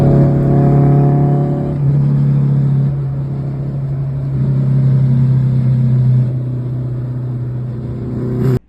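A front-wheel-drive car takes off hard from a stop at a car meet; its engine roars loudly and close, the pitch climbing and dropping as it accelerates through the gears.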